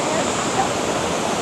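Golden Waterfall near Jiufen and Shifen, Taiwan, pours as a steady, dense roar of rushing water, loud and continuous, with no break through the short stretch.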